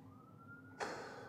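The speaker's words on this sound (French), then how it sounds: "Sirène de Gotham." A Gotham-style siren sound effect: a steady high tone holds, then abruptly gives way to a louder, noisy wailing burst that continues to the end.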